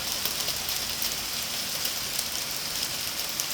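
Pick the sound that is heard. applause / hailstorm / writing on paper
hailstorm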